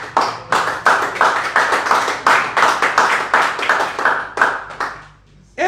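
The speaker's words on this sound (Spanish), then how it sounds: "Bríndele un fuerte aplauso al Señor por eso." A congregation at a Spanish-language church service claps together in a strong, pulsing rhythm, with close, sharp hand claps in waves that die away near the end.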